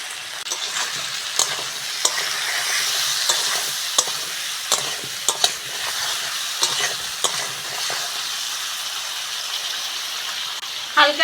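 Fish curry spices with turmeric, salt and cumin paste are stirred in a frying pan, a steady sizzle broken by frequent sharp scraping and tapping of the spatula, close and fairly loud.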